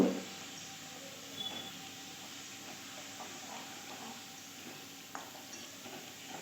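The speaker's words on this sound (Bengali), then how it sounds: "যেহেতু গুঁড়ো মশলা দিয়েছি তাই অল্প একটু জল দিয়ে কষিয়ে নেব" Chili powder and ground spices sauté with tomato and a splash of water for a Bengali fish curry, producing a soft, continuous sizzling hiss with occasional faint stirring clicks.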